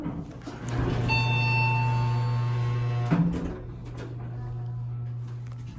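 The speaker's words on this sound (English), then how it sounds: "chime sounds sick." A Montgomery KONE hydraulic elevator chime at a Kohl's store in a Cincinnati mall rings out as a sustained electronic tone for about two seconds, then a brief clunk, over a steady low motor hum.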